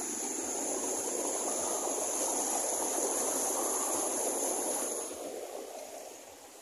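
River water rushes past the pools of the Pas river, a steady broadband wash that holds loud and then eases slightly near the end, with no voices.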